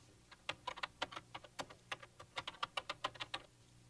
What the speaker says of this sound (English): In the highlighted space, let's type To-Do List